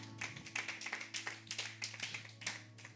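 A church congregation claps in steady rhythm to acclaim the Lord, many hands striking in quick regular beats over a low sustained musical hum, moderately distant.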